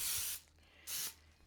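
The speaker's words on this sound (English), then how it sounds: "I'm taking some spray with flour. And I'm going to go ahead and spray it." Two short bursts of Pam baking spray with flour hiss from a can onto 12-inch ceramic loaf pans, each a steady, close spray lasting under half a second with a quiet pause between.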